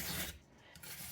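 A whole carrot rubbed lengthwise over a grater, giving a close, continuous raspy scraping that dips briefly in the middle and then resumes, with no talking.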